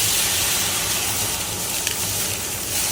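Veal stock with a Shiraz wine reduction boiling in a pan, giving a steady, dense hiss and bubbling sizzle that holds evenly throughout with no speech.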